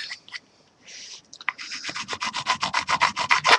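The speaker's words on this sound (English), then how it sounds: "And now we're just going to go ahead and sand these down." Sandpaper rubbed over the edges of a handmade airsoft grip, beginning with scattered scrapes and settling into a steady run of rhythmic back-and-forth strokes, close and fairly loud, with no talking.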